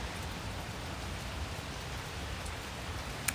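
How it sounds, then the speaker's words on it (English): Steady outdoor rainfall, a continuous broadband hiss of drops on surfaces, fairly close and even throughout with one brief louder tick near the end; no speech. "We are outside and it's raining right now"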